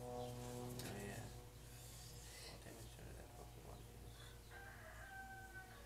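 Chickens crow and cluck during a Pokémon card battle, the crowing standing out at the start over a dense background of other sounds, with people talking throughout.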